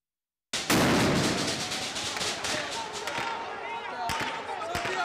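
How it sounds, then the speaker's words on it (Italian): Gunfire and stun grenade explosions at a protest on a bridge in Baghdad, heard as a loud sudden blast followed by scattered sharp bangs and cracks amid crowd noise and shouting voices. "Le esplosioni delle granate stordenti, dei lacrimogeni sparati ad altezza uomo e dei proiettili ufficialmente esplosi in aria come avvertimento"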